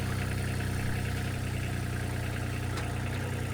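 A tractor engine running while stones are placed for landscaping: a constant, close, low rumbling drone at a steady idle that does not rise or fall, with no speech over it.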